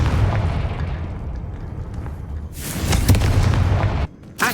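An explosive Confringo spell goes off in Hogwarts Legacy as a loud, booming burst that erupts mid-clip and rumbles on, cuts off sharply, then bursts again briefly at the end.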